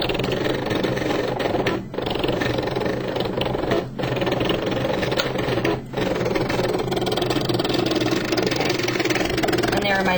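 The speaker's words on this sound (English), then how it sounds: "There are my die cuts still cutting." A Cricut Expression 2 cutting machine working through die cuts, a continuous mechanical whirring and buzzing with three brief pauses as the cutting head shifts, steady and close.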